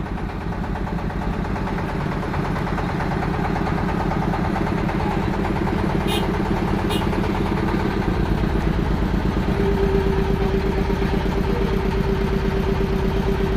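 A ketek motorboat engine chugs steadily and loudly at close range, its even rhythmic drone unbroken throughout, on a river journey to Sengkati Gedang village in Mersam, Batanghari.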